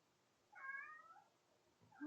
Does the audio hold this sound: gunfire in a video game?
no